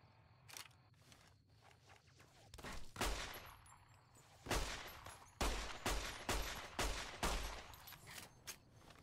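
A shotgun fired in the video game Fallout: New Vegas, a string of about ten sharp, loud blasts at irregular intervals with quieter clicks and movement sounds between them.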